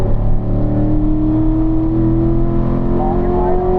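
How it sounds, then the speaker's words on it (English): A race car on the Spring Mountain track drones loudly and close in a steady engine tone, with a slight dip near the start that fits a quick upshift. "Make that upshift"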